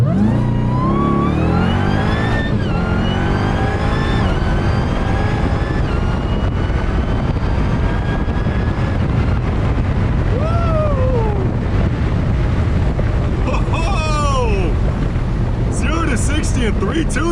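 A 1000-horsepower Dodge Durango Hellcat launches in second gear on a drag strip, its engine note climbing loudly in repeated rising sweeps as it accelerates, with the roar staying heavy and constant throughout.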